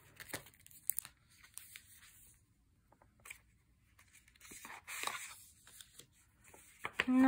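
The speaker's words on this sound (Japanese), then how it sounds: "素材紙なんですけど、開けていこうと思います。" Crinkly tearing and rustling as a package of craft paper bought from AliExpress is opened by hand, close up, in irregular bursts with quiet gaps, a louder crumple near the end.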